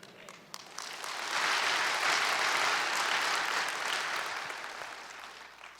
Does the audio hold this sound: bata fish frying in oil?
no